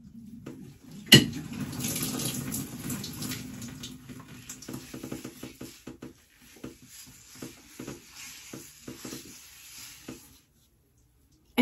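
Shower water runs steadily onto hair, a continuous wet rush after a sharp splash at the start, with irregular patters and drips through the middle before it cuts off near the end.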